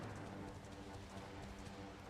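Steady clip-clop of hooves at a quick pace, a horse galloping continuously under a low background hum, in the video game Dragon Quest 11.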